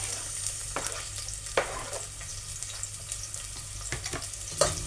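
Garlic and onion sautéing in a pan for kare-kare beef, a soft steady sizzle broken by occasional stirring scrapes and clicks, fairly quiet and close.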